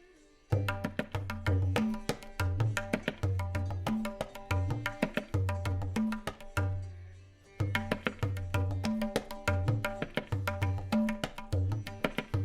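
Tabla drums play a kaida that finishes with a tihai, with rapid crisp strokes over resonant bass tones in repeating phrases, one brief pause midway, played close with no talk.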